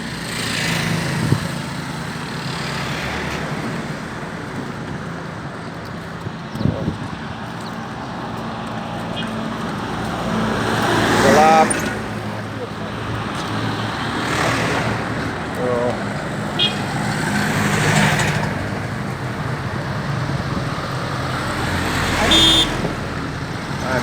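Road traffic along the Avenue of the Sphinx in Luxor, Egypt: a steady roadway rumble with vehicles swelling past one after another, fairly close, with some faint voices in the background.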